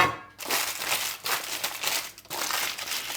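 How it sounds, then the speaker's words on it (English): Paper being crumpled by hand to line a mold for a two-layer cake, a close, continuous crinkling and crushing with brief pauses and bursts of louder rustling. "Crumple it up. Then I can put them easily into the mold."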